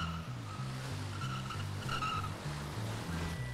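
A motorbike in GTA V sounds out in a repeated, pulsing engine note: short rhythmic revs that rise and fall at a steady beat, with squealing skid tones above them, fairly quiet and with no talk.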